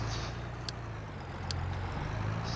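A tractor engine idles steadily in a farming video game, a low continuous drone with faint brief clicks on top and no talking.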